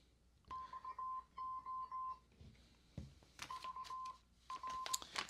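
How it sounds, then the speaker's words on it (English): Short steady electronic beep tones from a Bluetooth speaker, sounding in two separate runs of chirping pulses, fairly loud and close, broken by a few faint handling knocks. "Go ahead and turn this Bluetooth speaker on."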